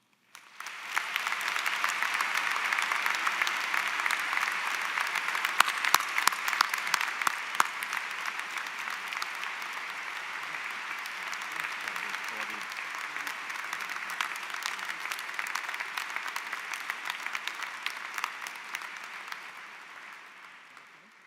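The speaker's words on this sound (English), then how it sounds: "join me in saying thank you with one more round of applause" Sustained applause from a large graduation ceremony audience, steady clapping that swells early and gradually tapers off toward the end.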